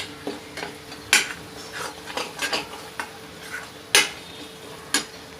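A spoon scrapes and knocks against a pan while butter and onion are stirred together for paneer tawa masala, giving irregular close clinks and strokes over a faint background sizzle.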